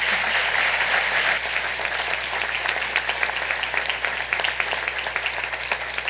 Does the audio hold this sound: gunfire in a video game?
no